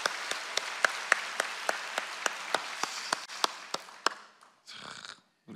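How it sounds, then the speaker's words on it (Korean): A church congregation claps in steady applause, loud distinct claps that gradually thin out and fade, followed by a faint voice near the end. "오늘 우리 교회학교 대표로 온 우리 다나 학생이 있는데 우리 박수로 축복합니다."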